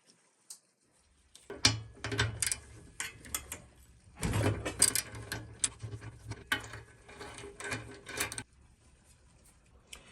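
A 9/16 socket wrench ratchets bolts on the engine mount of a Switz Cruz bicycle fitted with a 4-stroke engine, giving bursts of close clicking and mechanical rattling with short pauses.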